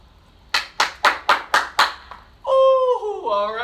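Six sharp hand claps in an even rhythm during a popcorn warm-up game, loud and close, followed by a sung or spoken vocal phrase.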